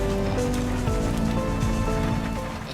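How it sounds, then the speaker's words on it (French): Heavy rain pours down in Nepal in a dense, continuous hiss with scattered pattering drops, steady throughout. "et il pleut tellement"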